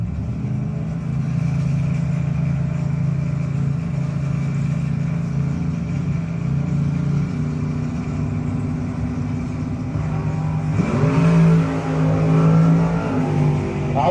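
An '86 Mustang and a '68 Camaro, drag race cars at a no-box 660 shootout, idle and rumble loudly and close, and then the revs rise near the end.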